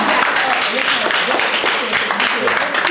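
An audience at a teen summit applauds for comedians, giving loud, dense clapping from a crowd with voices and cheering mixed through it.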